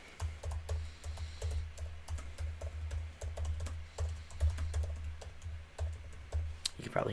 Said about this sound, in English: probably hear my typing.